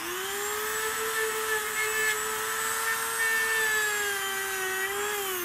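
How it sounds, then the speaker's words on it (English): A Dremel rotary tool fitted with a wire brush grinds rust off a metal table. It gives a steady, high, close whine that holds a nearly constant pitch throughout. "you could easily grind it off with the wire brush, prep the surface for paint"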